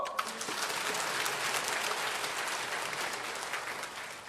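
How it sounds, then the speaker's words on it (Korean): A church congregation breaks into dense, sustained applause that holds at a steady level for several seconds. The sound is thick and even, with no voices heard over it. "박수!"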